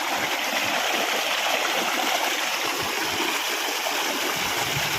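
Irrigation water flowing in a groundnut field just after being turned on, a steady loud rushing stream sound, continuous and even, close by with no pauses.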